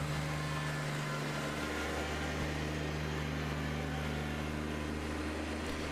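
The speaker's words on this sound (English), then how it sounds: "it would be nice if the tractor actually would go back up just a little bit faster" A tractor backs up while blowing snow, its engine a steady low drone with a droning blower whir over it, continuous and fairly faint throughout, with no voices.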